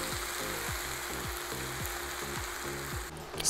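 Tomato juice sizzles and hisses steadily in a hot pan, a constant frying crackle with no voices.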